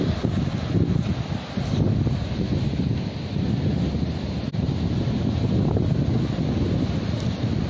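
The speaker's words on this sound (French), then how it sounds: "On va avoir du vent là." Steady wind buffeting a microphone outdoors, a continuous low roar with gusty rumble throughout, loud and close, no talking.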